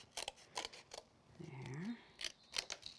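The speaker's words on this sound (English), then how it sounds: "Pop her down on a piece of card, and I'm going to use my scissors." Scissors cut through a piece of card in a craft session, giving several sharp, close snips in short bursts, with a brief low murmur of voice partway through.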